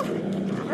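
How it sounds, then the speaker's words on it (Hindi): Wild dogs in a desert action film scene bark and yelp in a dense, continuous pack noise, close and fairly loud, with a little background sound mixed in. "जंगली कुत्तों ने घेर लिया है।"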